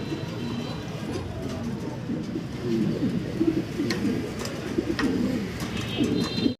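Steady low cooing from giant homer pigeons close by, repeated throughout, with a few light clicks and rustles in the background.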